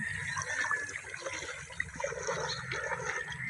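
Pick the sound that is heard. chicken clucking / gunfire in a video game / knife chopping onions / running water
running water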